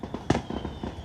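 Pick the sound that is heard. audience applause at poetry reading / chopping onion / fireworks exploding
fireworks exploding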